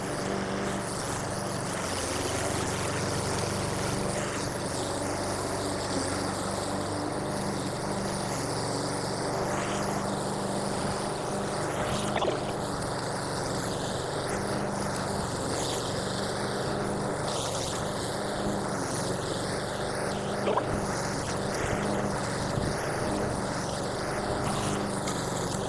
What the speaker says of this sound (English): We're gonna see how many pulls it takes to get this thing to start.